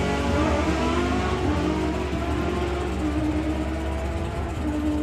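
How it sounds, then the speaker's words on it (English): Top methanol drag racing car engine idling as it rolls into stage at Santa Pod Raceway, a loud, continuous rumbling drone with rough pulsing harmonics, steady throughout with no talk. "A little top methanol car when it goes into stage"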